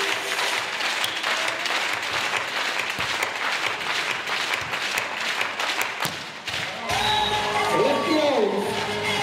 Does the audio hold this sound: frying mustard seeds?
no